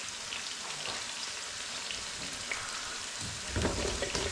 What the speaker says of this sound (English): To try and get them a bit crispy. Let's get them fried off.